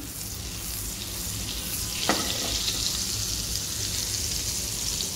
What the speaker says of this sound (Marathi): थोडंसं बटर आपण घालणार आहोत आणि थोडंसं तेल घालणार आहोत त्याच्यामध्ये आपण